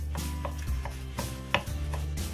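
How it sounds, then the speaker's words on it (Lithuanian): A knife chops chili pepper finely on a board, seeds and all, in quick irregular close taps, about eight sharp cuts over a couple of seconds with no talk. "susipjaustom čili pipirą smulkiai"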